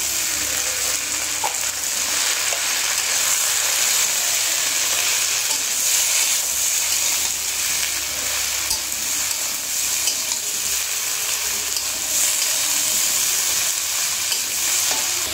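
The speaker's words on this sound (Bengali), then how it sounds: "এবার এটা ভালো করে আমরা মিশিয়ে নেব।" Chilli chicken stirred and frying in a pan gives a steady, loud sizzle with continuous scraping stirs throughout, no talking.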